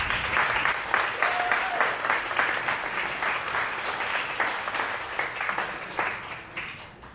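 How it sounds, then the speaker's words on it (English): An audience at a Juneteenth program applauds an artist being introduced, dense, steady clapping from a crowded room that holds for several seconds and then gradually thins out. "Please start clapping right now for Debb Peterson."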